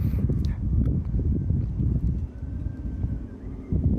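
Gusty wind buffeting outdoors, a steady low rumble swelling and easing across the whole stretch, close and fairly loud.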